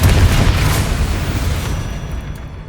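A Confringo explosive spell goes off in the Hogwarts Legacy game, landing as a loud, deep boom with a rumbling burst that decays over a couple of seconds of fading debris and reverb.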